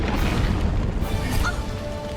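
A cane gun fires in the RWBY animated series with a deep, booming blast that fills the short moment, loud and heavy with a low rumble trailing into a faint whoosh.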